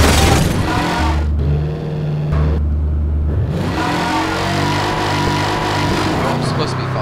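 A car drives and drifts in Garry's Mod, its loud engine droning and shifting pitch throughout, with a voice talking over it.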